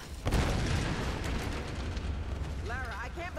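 An explosion in Tomb Raider booms up sharply near the start and then settles into a long, rumbling roar, with a voice talking briefly toward the end.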